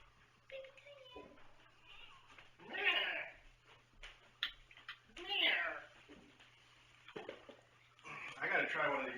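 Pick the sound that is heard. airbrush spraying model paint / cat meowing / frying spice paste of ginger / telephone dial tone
cat meowing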